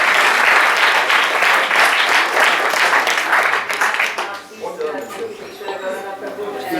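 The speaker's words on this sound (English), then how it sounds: "Give yourself a big round of applause." Loud, close audience applause at an ISKCON temple program in Phoenix, strong at first and then thinning into scattered claps and murmuring voices.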